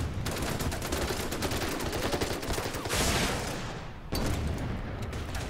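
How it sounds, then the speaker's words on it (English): Naval guns fire in the Pacific war strategy game Order of Battle Pacific, a dense, loud barrage of booming shots and rumbling explosions that continues without a break. "Keep firing on that one."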